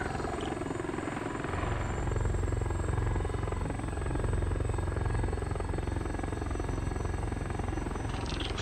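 Helicopter in an online multiplayer shooter game, steady loud rotor thump and engine drone throughout, with no talking.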